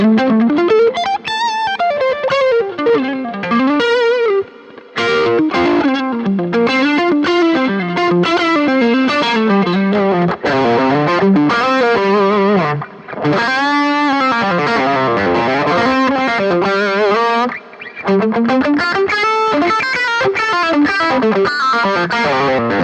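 A BOSS GX-100 guitar processor factory preset plays distorted electric guitar lines with chorus, a panning delay and plate reverb, loud and continuous with brief pauses between phrases.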